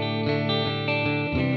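An electric guitar played clean through a Mooer GE250 with spring reverb into a Deluxe 112 amp rings out a few strummed chords, bright and sustained with a lingering reverb tail.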